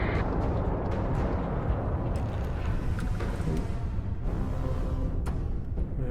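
Heavy spaceship weapons fire pounds an enemy ship's grav drive in the Starfield space game, with a dense, loud, sustained rumble of blasts and impacts and sharp hits punctuating it throughout.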